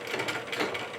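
A domestic sewing machine starts stitching close to a fabric edge while threads help guide it, making a steady fast mechanical whir with rapid ratcheting needle clicks throughout, fairly loud and close with no talk.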